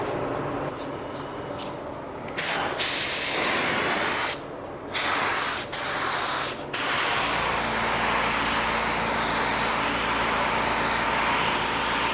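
An LVLP paint gun run off a small compressor at 22 psi lays down a first coat, a loud, close, steady hiss broken by a few brief trigger pauses before running continuously.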